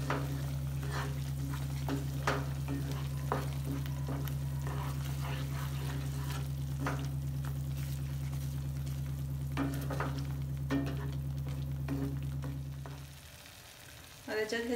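Spices frying in hot oil for butter chicken on a medium flame, a steady close sizzle with scraping stir strokes throughout, cut off near the end as the heat drops.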